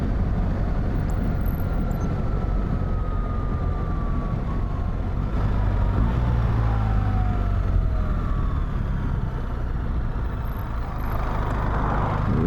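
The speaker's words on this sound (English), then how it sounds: "Oh, these tyres are noisy" Steady tyre roar from a BMW R1300GS motorcycle riding on the road, a constant broadband rumble that stays loud and even throughout, with faint whistling tones drifting over it.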